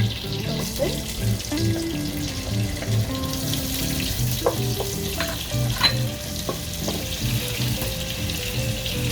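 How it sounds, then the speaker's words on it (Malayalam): Chopped onion frying in a pan, a loud close sizzle with frequent scrapes and knocks of stirring, set under a layer of background music. "ഒന്ന് ഉള്ളി മൂക്കട്ടെ"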